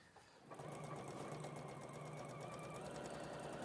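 A sewing machine stitches a shoulder seam at a live sewing session, starting up after a brief quiet moment and then running steadily with a loud, continuous rapid whirring hum.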